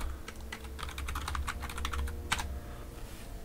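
Steady, rapid typing on a computer keyboard, dense close clicks running continuously for a few seconds with a slightly louder keystroke near the end.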